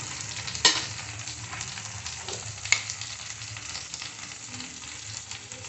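Ground spices stirred one after another into hot oil for Maharani Begun, an aubergine dish, giving a steady sizzle with a couple of sharp utensil knocks against the pan.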